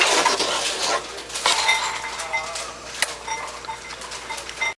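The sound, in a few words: stirring spaghetti sauce in a pot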